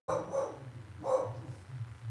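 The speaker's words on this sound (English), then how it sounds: "she barking." A dog at home barks twice, about a second apart, at moderate distance against a quiet indoor background with no talk.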